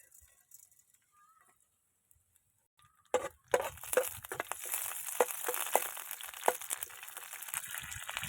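Mustard seeds and curry leaves hit hot sesame oil in a kadai. After a few quiet seconds a loud, dense crackling and spluttering sizzle bursts in close by and keeps going.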